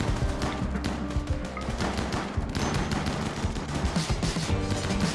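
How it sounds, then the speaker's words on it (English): Rapid gunfire rattles against a wall during a Rimworld raid on hardest difficulty, dense overlapping bursts of shots and impacts hammering continuously and loudly throughout. "So instead of coming after us, they're shooting the wall."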